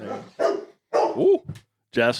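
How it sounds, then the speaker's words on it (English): A dog barks several times in short bursts at close range, loud and separated by brief silences, mixed with a person speaking briefly. "That's my dog"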